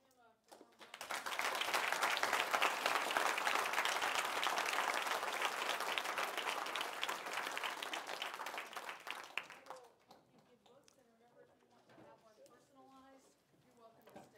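Audience applause at the close of a lecture on ethics and decision-making, a long sustained burst of clapping from a sizeable crowd that fades into scattered claps and a voice speaking near the end.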